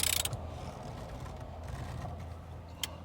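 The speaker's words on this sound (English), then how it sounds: "13/16 socket, and then you just start driving it in" A 13/16 socket wrench snugs the steering wheel nut on a squarebody truck, with soft mechanical ratcheting and clicking close by and one sharper click near the end.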